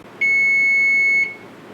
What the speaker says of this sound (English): Let me set the timer here.